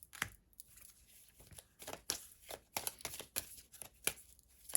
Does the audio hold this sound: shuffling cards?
yes